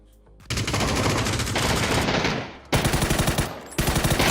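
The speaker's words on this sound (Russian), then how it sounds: "Стреляю." Loud, rapid automatic gunfire in PUBG, bursts of rattling shots that pause briefly around the midpoint and resume in sharp, close, repeated volleys with no talk over them.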